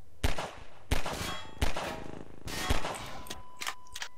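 Gunshots in the video game Cosmonaut: five or six sharp, fairly quiet shots at irregular intervals over a few seconds, each with a short metallic ring.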